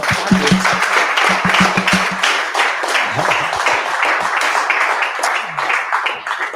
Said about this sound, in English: I just want to say a huge round of applause and thanks for Chetan.